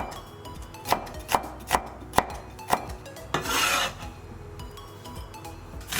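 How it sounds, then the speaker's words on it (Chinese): Knife dicing red bell pepper on a cutting board in a home kitchen: a run of five or six sharp, evenly spaced chops, then a brief scraping rub and a few softer taps, close and clear with no talking. "红彩椒切小丁，"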